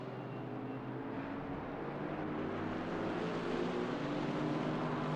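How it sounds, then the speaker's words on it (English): A BMW M4 GT4 race car with a six-cylinder engine runs in a racing video game at the Nürburgring. Its dense, continuous engine roar holds steady at moderate volume for several seconds with no talking. "We hear the distinct sound of an engine revving up. That's a 6-cylinder if I ever heard one, and that is from the BMW."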